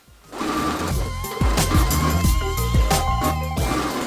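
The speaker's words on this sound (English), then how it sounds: "time to sew all the way around the front, enclosing it perfectly" Home sewing machine stitching around the front of a summer dress, enclosing the facing and waist ties: a steady mechanical whir with rhythmic needle clatter, close and fairly loud, running continuously with small bumps in pace.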